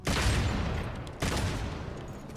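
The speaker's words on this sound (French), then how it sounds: "Le bruit du flingue quoi." Heavy gunfire in Devil May Cry 5: two loud, booming bursts of shots, the second starting just past the middle, each fading into a sustained rumbling tail.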